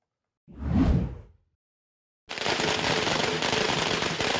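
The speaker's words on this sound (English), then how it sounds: "Firecrackers and the traditional lion dance welcomes the year of the ox" A sharp burst around the first second fades out, followed by a loud, sustained crackle of rapid firecracker explosions that continues to the end.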